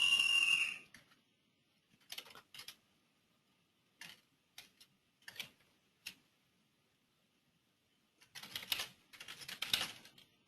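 Keyboard typing of a paragraph in scattered bursts of quick clicking keystrokes separated by pauses, fairly close and alone, with a denser run of keys near the end.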